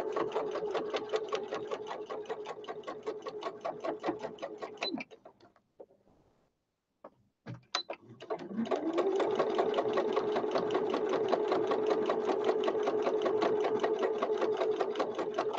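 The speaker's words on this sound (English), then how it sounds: "Carry on sewing all the way down." Close by, a sewing machine stitches a vintage journal cover with a fast, even mechanical chatter, stops for a few seconds amid small clicks, then resumes a long steady run.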